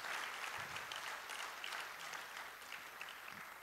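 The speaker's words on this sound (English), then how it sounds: "Please, another round of applause for my rector." Steady audience clapping at a medical college's annual general and scientific meeting in Ghana, moderately distant and fairly quiet, continuous for the whole stretch.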